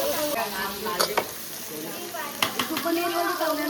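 Pomfret fish fries in a pan with a steady close sizzle, punctuated by sharp spatula or utensil clatters, while people talk nearby in a family kitchen in Konkan.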